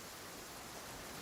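Rain falling in the desert in Genshin Impact, a dense, steady hiss of rainfall filling the brief moment evenly, with no voices.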